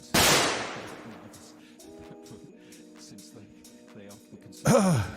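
A gunshot sound alert plays on a livestream, a sharp, loud blast with a decaying tail right at the start and another burst near the end, with voice-like sounds in between.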